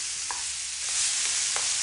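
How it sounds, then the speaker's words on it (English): Meat sizzles and crackles in a hot pan during a light searing, a steady bright hiss with a few soft stirring scrapes, close and alone with no talking. "I just want to stir slowly but thoroughly to give it a light searing."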